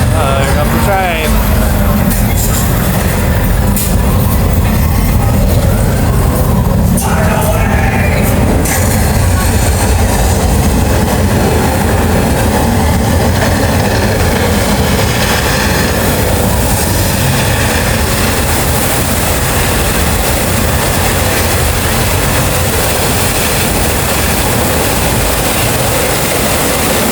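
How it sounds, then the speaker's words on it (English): Tram on the Universal Studios Hollywood tour rolling through a set, a loud continuous rumble and clatter close by, with people talking over it throughout. "Here comes the train."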